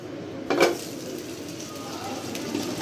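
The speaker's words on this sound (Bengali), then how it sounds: "এখন এই যে ঘিটাকে আমি মিডিয়াম আঁচে দিয়ে ভালো করে নাড়াচাড়া করব।" Ghee made from boiled milk cream is stirred in a pot over medium heat: a sharp metal scrape and clink of the spoon against the pan, then soft bubbling and occasional light scraping.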